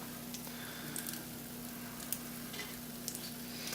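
Pumpkin pancake frying in coconut oil gives a steady, quiet sizzle with faint crackles and pops scattered throughout, no voices present.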